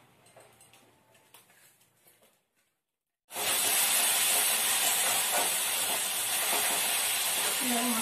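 Fish coated with salt and turmeric hits hot oil and bursts into a loud, steady sizzling hiss that starts suddenly after a moment of quiet and keeps going to the end, following faint kitchen sounds.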